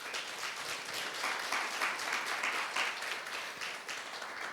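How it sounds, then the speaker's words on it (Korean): Steady audience applause, moderately loud and continuous, rising slightly in the middle before easing off, with no voices over it. "박수 한번 쳐주세요"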